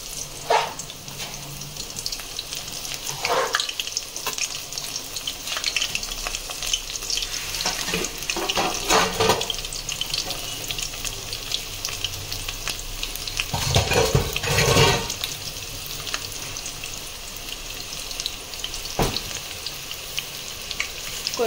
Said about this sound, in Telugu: ఫస్ట్ వచ్చేసి గార్లిక్ వేసుకుందాము.